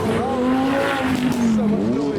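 A McLaren Senna pulls away at a crowded car event, its loud, steady engine note rising in pitch close by.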